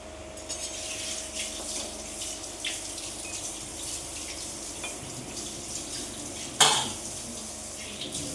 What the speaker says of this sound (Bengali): এগুলো একটু কালার করে ভেজে নিব। উল্টিয়ে পাল্টিয়ে ভেজে নিব